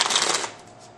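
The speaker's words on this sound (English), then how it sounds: "So I have my deck of cards, shuffle them" A standard deck of playing cards is riffle-shuffled up close, a quick dense fluttering burst of cards that lasts about half a second and then fades into quiet room tone.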